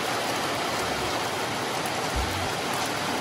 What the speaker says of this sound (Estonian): Täis padukat sajab.